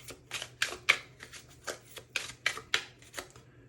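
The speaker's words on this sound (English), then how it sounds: "I'll shuffle on camera" Tarot cards shuffled by hand in a quiet room, a run of crisp riffling bursts about every third of a second, close and fairly soft with no talking.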